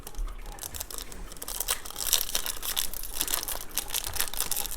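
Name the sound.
trading card pack wrapper being torn open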